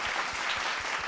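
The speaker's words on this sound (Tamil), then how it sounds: "அதற்கு ஒரு கூடுதல் கைத்தட்டல்" An audience at a Tamil speech competition quarter-final claps for a speaker, a steady burst of dense applause throughout, close and even, with no voices.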